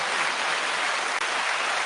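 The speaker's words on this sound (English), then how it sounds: "I had to play that. That was a clap." A short burst of applause sound effect played on purpose, steady dense clapping throughout with no talking.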